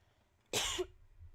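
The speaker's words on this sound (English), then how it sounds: "sorry, I have to cough" A single short, harsh cough close to the microphone, surrounded by quiet.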